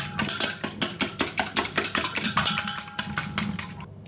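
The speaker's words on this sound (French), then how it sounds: "Je mélange, je vais fouetter le tout." A whisk beats brownie batter with a pinch of salt in a bowl, giving a rapid, regular series of scraping metallic clacks, close and fairly loud, that taper off at the end.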